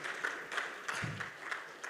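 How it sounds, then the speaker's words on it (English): Audience at a conference on the national infrastructure deficit, applauding after the organizers of the event are thanked, with soft, steady hand clapping that flutters on and off in a room, without speech. "give them a round of applause"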